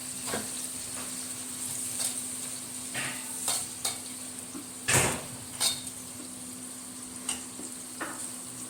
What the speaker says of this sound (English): Now that all the mustard seed is popped, we put the onion in.